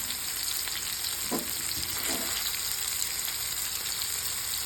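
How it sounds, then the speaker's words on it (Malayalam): Fish sizzling as it fries in a pan, cooked for a fish biriyani: a soft, steady hiss with a couple of brief louder spatters, heard alone without voices. "ഫിഷ് ഇതാ പൊരിച്ചോണ്ടിരിക്കണേ."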